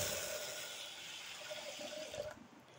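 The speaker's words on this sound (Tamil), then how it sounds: "இப்போ இது கூட ஒரு கப் அளவுக்கு தண்ணி ஊற்றிக்கலாம்." Water pours into a cooking pot while a green gram curry is being made on the stove, a faint, close splashing trickle lasting a couple of seconds before tapering off.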